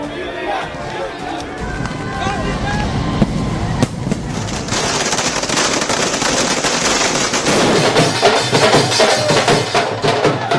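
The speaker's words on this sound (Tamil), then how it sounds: "நள்ளிரவில் ஆட்டம் பாட்டத்துடன் பட்டாசுகள் வெடித்து ஆரவாரம்" Rapid crackling bursts of firecrackers go off in dense, irregular volleys at midnight amid a noisy, celebrating crowd of fans with voices, growing busier toward the end.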